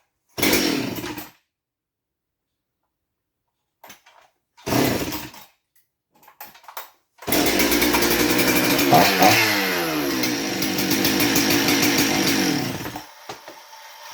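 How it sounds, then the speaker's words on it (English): A Husqvarna 371 chainsaw, being checked for an air leak, fires in short bursts that die out, then starts and runs steadily, loud and close, with its pitch rising and falling as the throttle is worked before it cuts off. "So let's get this thing started again."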